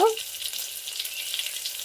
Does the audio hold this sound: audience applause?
no